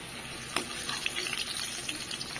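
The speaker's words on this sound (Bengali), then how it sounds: "আলুটা ভেজে নিচ্ছি একটু হলুদ দিয়ে ভেজে নিচ্ছি" Potatoes fry in oil with turmeric, giving a soft, steady sizzle with a few light stirring knocks, faint and close, no talking.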